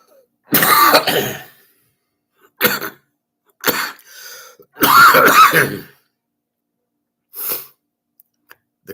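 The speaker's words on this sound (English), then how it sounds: "The cough from hell." A man coughs and clears his throat in several loud, harsh bursts close to the mic, with short gaps between them and one fainter cough near the end.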